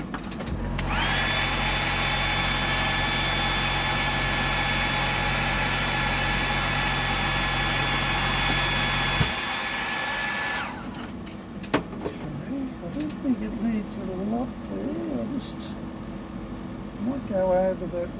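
A dryer blows on fresh paint on a fishing bait, a loud steady motor whine for about nine seconds that then stops and gives way to handling noises.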